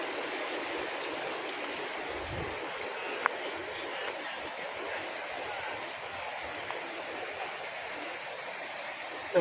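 A creek rushes over rocky boulders in a steady, full, close wash of flowing water that continues unbroken throughout.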